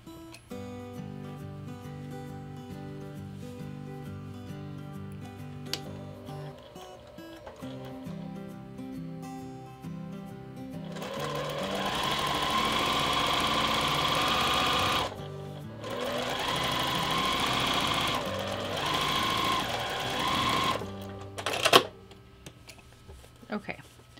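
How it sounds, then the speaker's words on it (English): A sewing machine stitches the side seam of a fabric bucket bag, running in steady bursts with short pauses between them, close and fairly loud, with no talking. "Flip your fabric and sew down the other 12 and a half inch side."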